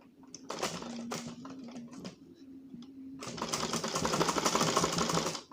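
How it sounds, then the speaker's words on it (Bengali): Domestic sewing machine stitching fabric for a kameez, a few short stuttering bursts with pauses, then a longer steady rapid run of needle chatter, close and fairly loud. "এখানে হালকা করে একটু সেলাই করে নেব।"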